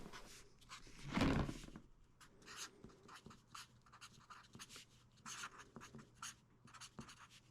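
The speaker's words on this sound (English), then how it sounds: "let's write it down" A pen scratches across paper in a quiet room, a series of short irregular strokes with one louder, heavier scrawl near the start, all close to the mic and with no voices.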